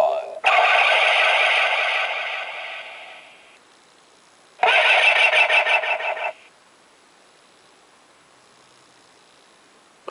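A toy transformation belt plays its electronic sound effect in two bright, tinny bursts from a small speaker. The first lasts about three seconds and fades, and a shorter second burst follows after a pause.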